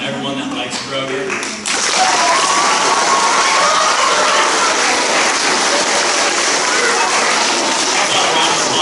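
Crowd applause breaks out at an elementary school playground dedication ceremony, a loud, dense wash of clapping and cheering that swells after a brief spoken lead-in and sustains steadily to the end.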